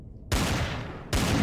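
Two sharp, loud sniper rifle shots in the Empyrion video game, each followed by a short rumbling decay, spaced about a second apart.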